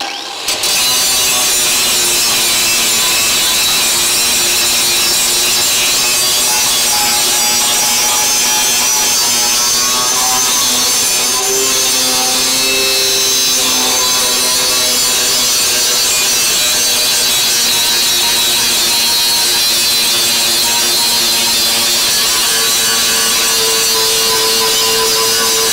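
Angle grinder working down weld beads on a freshly welded-in steel plate, a loud continuous rasping grind with a steady high whine that holds for the whole stretch, with no talking.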